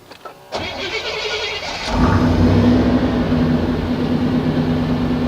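A 1988-1998 Chevy K1 pickup truck engine cranks briefly, catches and roars into a loud, steady rev that holds at a high idle, close to the microphone with no talking.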